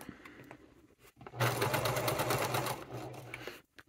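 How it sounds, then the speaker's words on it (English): A sewing machine stitches a fabric seam for a wallet with white thread, a fast, close mechanical whir starting after a brief pause and running for a couple of seconds before slowing to a stop. "I'm sewing with white thread"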